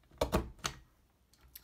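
A few sharp mechanical clacks, three close together then a fainter pair, as a punch board punches and scores paper for tea bag packaging up close, with no talking.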